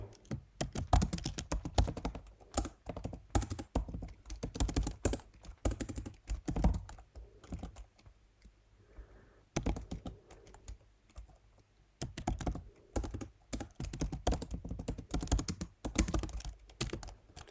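Keys rattle on a computer keyboard during coding in a text editor: rapid bursts of close, clicky keystrokes, a brief near-silent pause midway, then fast typing again, with no one speaking.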